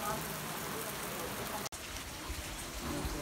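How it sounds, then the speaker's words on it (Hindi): Heavy rain pours steadily near a mountain temple, a dense hiss of drops on surfaces, with a brief cut midway and faint talk underneath. "बारिश हो गई है बहुत तगड़ी वाली"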